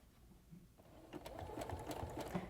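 A sewing machine zigzag-stitches fabric for a headband, starting after a quiet moment and then running as a fast, even mechanical whirr with a rapid stitching rhythm, close by and alone.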